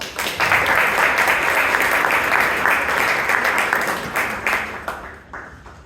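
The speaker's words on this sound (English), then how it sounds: "Round of applause for all of you before." Toastmasters meeting attendees in Bangalore give a round of applause, a dense burst of many hands clapping close and loud, holding steady for several seconds before thinning out and fading near the end.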